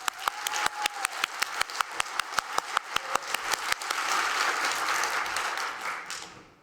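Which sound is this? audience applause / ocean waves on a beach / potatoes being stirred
audience applause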